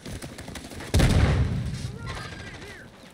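Several close, loud bursts of gunfire in the Rebirth video game, a heavy blast near one second followed by a rumbling tail and scattered fainter shots, with a voice talking faintly underneath.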